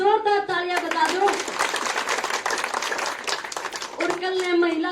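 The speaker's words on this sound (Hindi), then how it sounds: "एक बार अपने लिए जोरदार तालियां बजा दो।" An audience of village women applauds loudly for a few seconds at an event honoring them, the clapping rising between stretches of someone speaking over a microphone.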